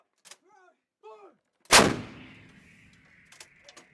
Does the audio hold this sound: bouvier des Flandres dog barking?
no